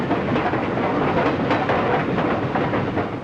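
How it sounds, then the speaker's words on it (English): New York Central's Flying Mercury passenger train running between Cleveland and Detroit in 1936, a steady, loud broadband rumble and rush of rolling wheels that stays even throughout. "Here's a vacation special, the Flying Mercury of the New York Central running from Cleveland to Detroit."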